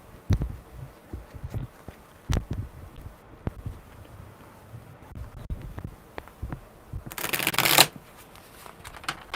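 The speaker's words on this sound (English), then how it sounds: "One more good shuffle because that was funky." Tarot cards are shuffled at close range, with scattered soft taps and slides of the deck followed by one loud, dense riffle near the end.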